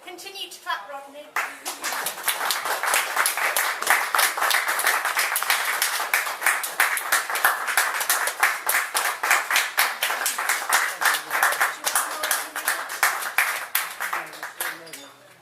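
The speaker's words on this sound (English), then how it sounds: "please give a very warm round of applause to the wonderful Mr." An audience claps warmly for a poet at an open-mic reading event, a dense sustained round of applause that builds quickly, holds for over ten seconds, then thins out.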